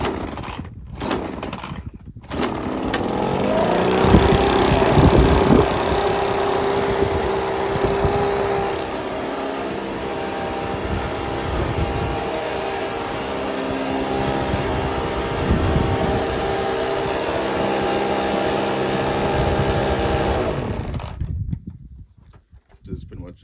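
A Husqvarna 525BX small engine, primed and choked, runs steadily at close range for about twenty seconds after a couple of short bursts at the start, then cuts out at the end.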